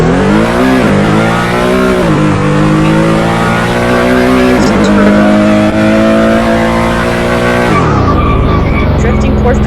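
Porsche Panamera drifting in the Car Driving Ultimate video game, its engine roaring loudly with rising and falling revs and tire noise, and a person talking over it before the sound cuts away near the end.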